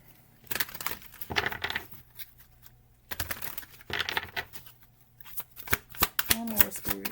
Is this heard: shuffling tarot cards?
yes